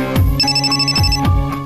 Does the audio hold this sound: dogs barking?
no